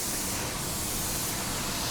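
A spray gun sprays paint sealer in a continuous, loud, broadband hiss that stays steady and close throughout.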